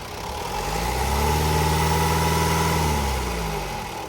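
A Honda Amaze car engine idling just after starting, a steady, close, low mechanical hum and drone that swells slightly and then fades back, with no talk over it.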